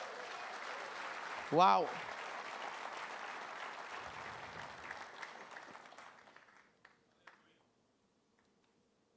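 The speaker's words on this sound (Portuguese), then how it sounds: "Vamos aplaudir o Senhor por isso?" A church congregation applauding during a service, a sustained wash of clapping with a voice exclaiming once near the start, tapering off and falling silent after about seven seconds.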